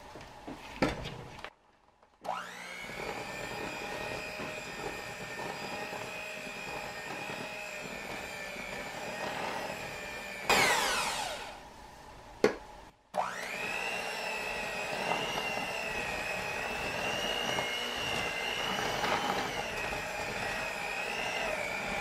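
An electric mixer whirs steadily through keto white chocolate macadamia cookie batter, a loud close motor drone that stops and restarts a few times, with bowl scraping between runs.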